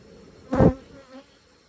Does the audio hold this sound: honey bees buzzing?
yes